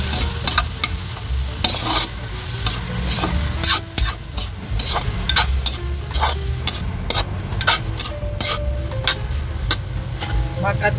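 Pork tenderloin and onions sizzle in a hot pan while being stirred, with repeated scraping and clinking strokes over a constant frying hiss, close and clear.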